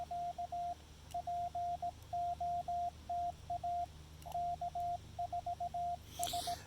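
Morse code is sent from a transceiver's CW memory keyer during a low-power portable park radio activation with a Chameleon CHA LEFS antenna, a faint, steady tone keyed in quick dots and dashes over soft background hiss.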